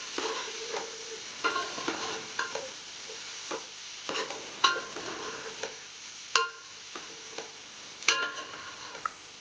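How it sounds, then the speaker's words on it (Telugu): A spoon stirs bottle gourd pieces into dalcha in a pot, producing intermittent scraping clinks and soft wet sloshing with a faint sizzle, close and fairly quiet, with no talking. "మళ్ళీ ఒకసారి మంచిగా మొత్తం కలిసిపోయేలాగా మిక్స్ చేద్దామండి."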